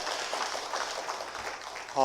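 A church congregation claps together for a moment during Sunday worship, a dense, fairly loud wash of applause that continues throughout, with a voice starting to speak at the very end.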